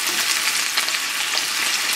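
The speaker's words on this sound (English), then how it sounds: "I'm going to add my fennel slices." Fennel slices sizzle steadily in a hot pan alongside a Cornish hen, a dense, close, continuous frying hiss with faint stirring crackles and no voices.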